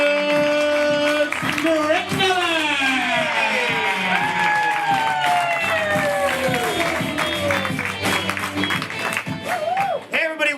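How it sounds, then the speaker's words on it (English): Comedy club audience at First Coast Comedy cheering and applauding loudly, with whoops and claps in a steady dense roar that runs the whole length, voices rising over it and swelling near the end. "He said as the crowd went wild."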